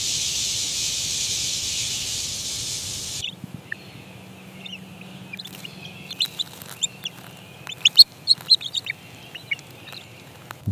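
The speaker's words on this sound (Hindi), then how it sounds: "घोंसले वाले पेड़ के नीचे मां बार बार पुकारती है।" A wood duck mother calling below the nest tree: after a few seconds of steady hiss, a quiet outdoor scene fills with a run of short, repeated calls and peeps that grow busier toward the end.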